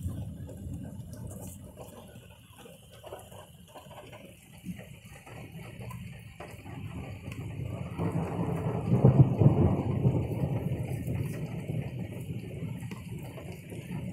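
Rain falls steadily through an Oregon thunderstorm near a flooding freeway, with low rolling thunder rumbling throughout and swelling louder toward the middle before easing off.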